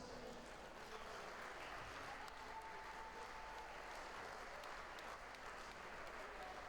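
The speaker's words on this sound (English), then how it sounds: "Ladies and gentlemen, once again, another round of applause for your 2 British Open finalists." Continuous applause from a large audience at the British Open darts finals, a steady wash of clapping throughout with a faint voice now and then.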